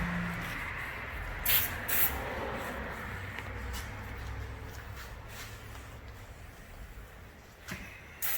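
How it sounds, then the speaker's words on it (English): Brake cleaner sprayed from an aerosol can onto a BMW E38 during a rain guard install, heard as a few short hissing bursts over steady background noise, with quieter rubbing and handling sounds between them. "Spray it down, wipe it really hard."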